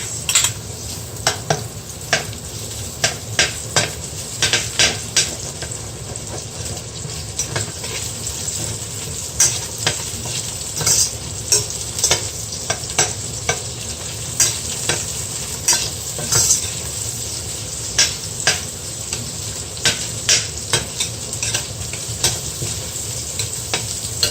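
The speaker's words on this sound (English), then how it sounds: "Now I'm going to saute my vegetables. First is the onions." Onions sauté in a pan for Filipino sinigang, a steady close sizzle broken by frequent sharp scrapes and taps of a spatula stirring, with no voices.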